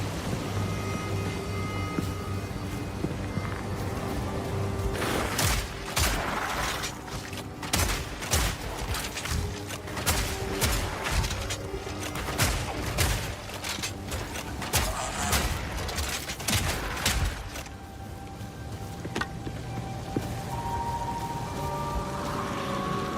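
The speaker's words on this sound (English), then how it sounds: "So he can go bang bang instead of bang reload, bang reload." Double-barrel shotgun fire in Path of Exile 2, sounding as dense rapid gunfire bursts through the middle of the stretch over a constant loud game background, with no voices.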